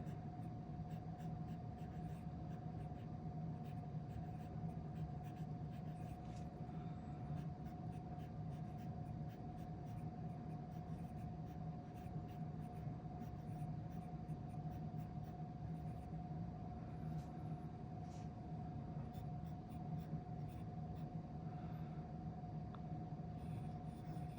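A fountain pen scratches softly across paper in short cursive italic strokes over a steady low hum, with no talking.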